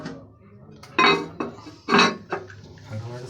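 A ceramic toilet cistern lid set back in place, giving a few sharp hard clunks and scrapes of porcelain on porcelain, with quiet pauses between the knocks.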